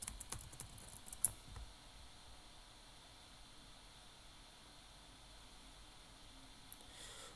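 Keys clatter in a quick burst of typing on a computer keyboard, then the room falls to a faint hiss before a few more soft clicks at the end; quiet and close, no voices.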